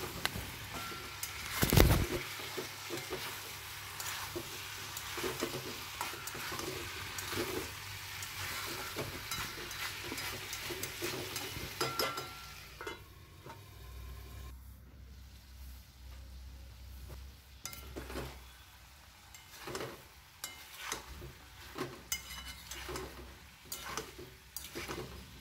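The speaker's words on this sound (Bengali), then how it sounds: "এবার ভেজে রাখা ফুলকপিগুলো দিয়ে দিলাম, দিয়ে নেড়ে চেড়ে আবারও একটুখানি ঢাকা দেবো" Fried cauliflower is stirred into a fish head and potato curry in a pan. It gives a steady, close sizzle with scraping stir strokes, louder at first and then settling to a softer, crackling simmer.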